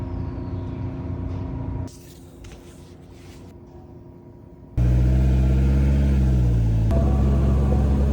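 Polaris Slingshot three-wheeled roadster on the road, with a steady engine rumble and wind noise that drop away briefly, then return as a loud, close engine drone rising in pitch as it accelerates.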